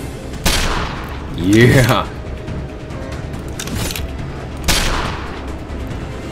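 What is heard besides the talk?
gunshots from video game Contract Killer 2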